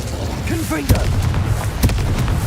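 Confringo fire-blast spell cast in Hogwarts Legacy, two sharp bursts about a second apart over a steady rumbling game backdrop, with a voice sounding briefly beneath.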